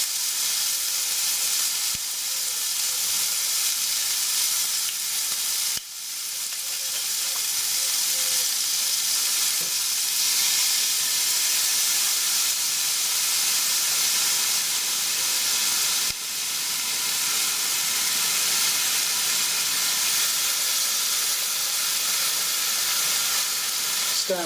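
Red wine vinegar hits a hot pan alongside pan-fried skate wing, red peppers, tomatoes and capers, releasing a loud, continuous bright sizzle and steamy hiss that barely wavers throughout, with no talking.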